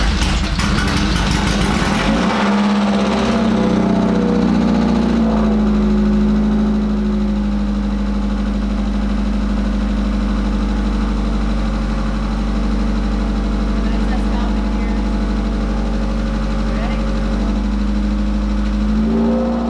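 An Exocet car's engine starts amid clatter while the car sits up on stands, then runs at a steady, loud idle for the rest of the stretch with no talk.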